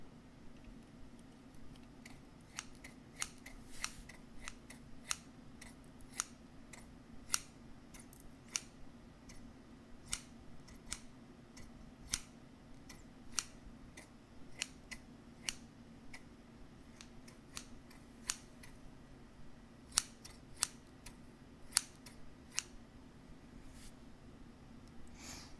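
Scissors cut paper in a long run of quiet, crisp snips, each a short separate click-slice, spaced fairly evenly at close range in a calm, hushed setting.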